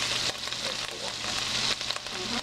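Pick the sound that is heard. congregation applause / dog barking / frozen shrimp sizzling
frozen shrimp sizzling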